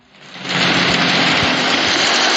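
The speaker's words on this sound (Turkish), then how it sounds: "Onlar yağmur sesi" Video game rain: a steady hiss swells in over the first half second, then holds as a dense, even downpour with faint low thumps beneath.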